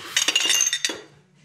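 Metal cutlery clinks and rattles in a kitchen drawer in a few quick close bursts, clattering for about a second before trailing off.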